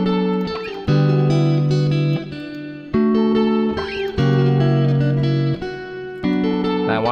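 A layered live guitar loop with reverb and effects stacks several guitar parts into a dense, continuous texture, with chord changes recurring every second or so and no voices.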